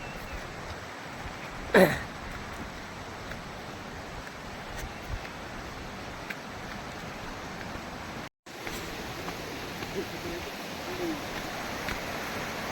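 Steady broadband rush of a shallow river flowing low after light rain fills the scene, with a brief louder knock near the start and a momentary dropout partway through.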